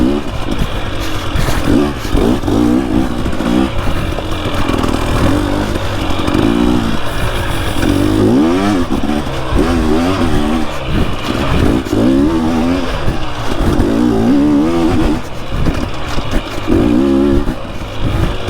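A Yamaha YZ 450 dirt bike engine revs hard and continuously, rising and falling in repeated throttle bursts with a rough, buzzing four-stroke tone, loud and close throughout.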